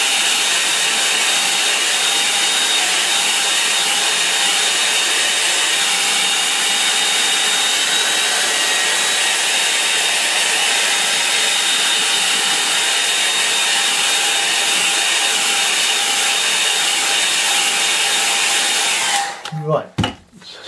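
A hair dryer blows steadily on wet watercolour paint, a loud constant broadband whoosh lasting nearly twenty seconds before it cuts off with a few handling knocks at the end.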